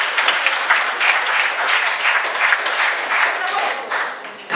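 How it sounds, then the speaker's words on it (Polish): An audience applauds Madzi at the Big Brother final press conference, steady loud clapping from a crowd indoors lasting several seconds, with a voice faintly present underneath. "Wielkie brawa dla Madzi, która jest z nami dzisiaj."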